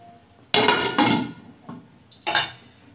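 A lid set onto a pot of leafy greens curry (piring shak ghonto) in a village kitchen, giving several sharp metallic clanks and clinks close by, with no talking.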